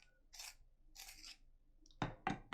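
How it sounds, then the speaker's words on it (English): Pencil sharpened during a dog-fur drawing session, giving two short, close scraping whirs followed by two sharper gritty bursts. "I'm just going to sharpen the pencil."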